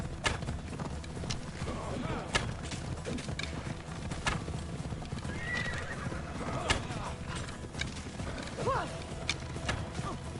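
Horses gallop with steady clip-clop hoofbeats and repeated neighs and whinnies in the Assassin's Creed video game, loud and close, mixed with voices talking over the action.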